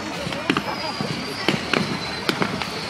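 Bonfire Night fireworks at a recreation ground in Nottingham, distant bangs and crackles popping in irregular clusters beneath steady crowd chatter and nearby voices.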